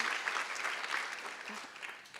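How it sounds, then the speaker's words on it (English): An audience at a distinguished lecture series event claps for the lecturer in a brisk round of applause that fades gradually toward the end. "please help me give another round of applause to Professor May"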